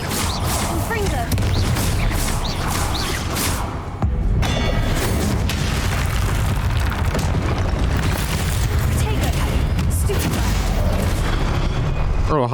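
Fiery Confringo spell blast in Hogwarts Legacy, a dense, loud rumbling boom that sustains with crackling layers and game score, briefly dipping near four seconds before surging again.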